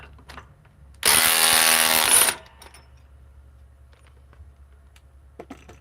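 A DeWalt XR DCF870 hydraulic impact driver running in one loud, close burst of just over a second of high-pitched whirring hum, then quiet with a few small clicks.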